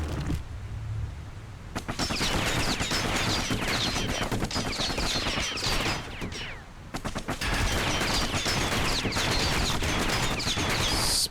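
Rapid continuous gunfire from the kid's guns in the action game Bastion, dense and loud bursts of shots running almost throughout with brief pauses, no talking.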